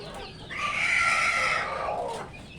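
A young, not yet full-grown chicken from a backyard flock's first hatch gives one drawn-out, strained call that swells and fades over about two seconds, fairly close and clear above faint background noise.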